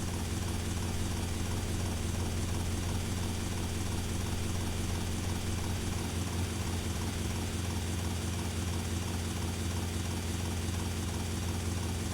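Police helicopter in GTA Vice City, a steady droning rotor and engine hum that holds at the same moderate level throughout, with no talking.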